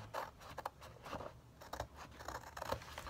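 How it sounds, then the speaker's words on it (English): Soft, rapid scraping and rubbing strokes of scissor blades burnishing paper folds, in short repeated bursts, close and quiet. "I always use my scissors to burnish"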